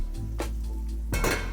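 A pot lid and dishes clink in a home kitchen while chicken stews on the stove: a few sharp metallic taps, then a brighter, louder rattle of clattering crockery near the end, close and alone.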